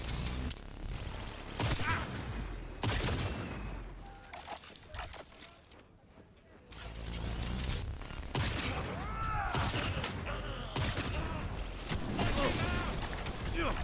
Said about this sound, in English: Maybe I need to charge up these long range shots